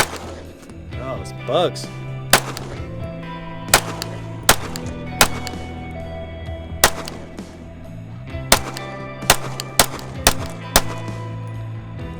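Canik TP9DA pistol firing Blazer 115 grain brass-cased ammunition, about eleven sharp, loud shots spaced irregularly over a steady low hum, with a brief spoken remark early on.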